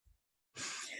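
A faint breath, a short pause, then a sudden sharp hissing sneeze close to the microphone.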